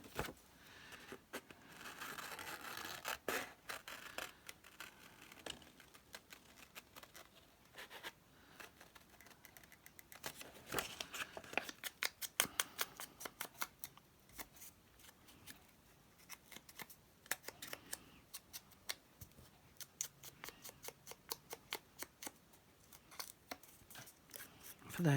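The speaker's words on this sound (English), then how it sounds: "I'm going to fussy cut around this flower" Scissors snip around a paper flower in a long run of quick, crisp cuts and rustles, close and fairly loud, with short pauses between bursts and no voices.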